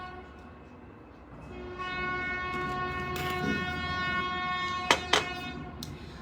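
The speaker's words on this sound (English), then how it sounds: "The train's going by and it's kind of loud." A train rumbles past steadily, its horn sounding in sustained tones, with a couple of sharp clanks near the end.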